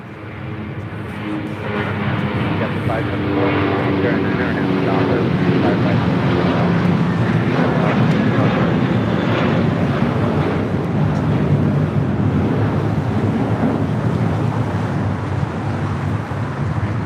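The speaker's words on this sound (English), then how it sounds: "2543 taking off to Dallas Fort Worth on an A321." An American Airlines Airbus A321 takes off from LAX bound for Dallas Fort Worth, with a steady, loud broadband engine roar that rises quickly and holds for the whole stretch, close and continuous.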